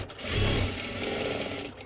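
A sewing machine runs steadily while stitching a katori blouse, a close, continuous rapid whirring and clattering with no pauses.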